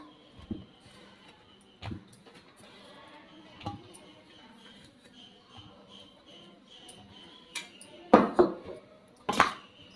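Spoon mixing chopped brinjal pieces into a yogurt chutney in a bowl, soft wet stirring with a few sharp knocks against the bowl's rim, close by, growing louder toward the end.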